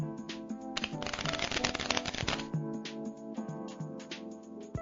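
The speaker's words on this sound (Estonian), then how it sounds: "Lihtsalt alguses jaotame kaardid kõigi vahel ära." Playing cards dealt and shuffled at a table, a dense burst of rapid riffling clicks followed by lighter, separate card snaps, close and clear without talk.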